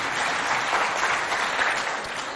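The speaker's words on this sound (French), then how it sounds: "Applaudissez pour cet excellent niveau." Audience applause at a school quiz show between two secondary schools, a brief burst of dense, lively clapping from a crowd in a hall, steady and fairly loud throughout.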